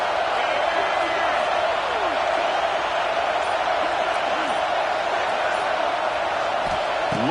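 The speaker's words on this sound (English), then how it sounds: "the crowd coming to life here, trying to help this defense down in the red zone" Stadium crowd noise in a college football video game, a steady loud wash of cheering and roar filling the whole stretch without a break, swelling with the defense down in the red zone.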